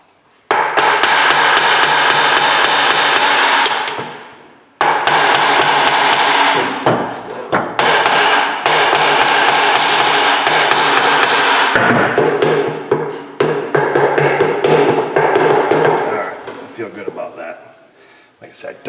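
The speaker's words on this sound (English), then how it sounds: "Don't like beating up on these shafts too much." An aluminium driveshaft is struck during U-joint replacement, a rapid, loud run of close metallic hammer blows in long bursts with brief pauses, fading out at the end.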